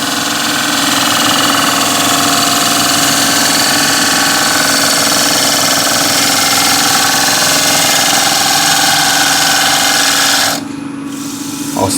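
Wood lathe turning as a gouge cuts gently into spinning wood, a steady loud continuous whir and scraping hiss running unbroken for about ten seconds before dropping away near the end.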